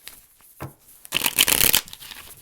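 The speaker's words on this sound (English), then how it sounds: "and then last shuffle" A short, crisp riffle of tarot cards being shuffled, a brief flurry of papery snapping after some faint handling noises.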